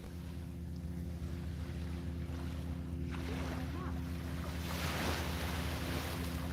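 A small wave breaks along shallow water only a couple of inches deep, a soft rising wash near the end set against wind noise and a steady low hum.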